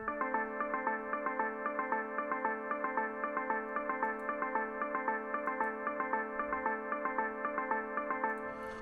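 A bright, rich synth one-shot sample for Amapiano repeating in a steady fast rhythmic pattern of short stabs, alone and evenly loud throughout.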